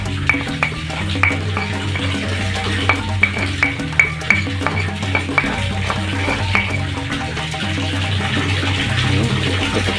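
Ground spice paste mixed into fish by hand, steady wet squelching and squishing with a regular rhythm of soft clicks, close and continuous.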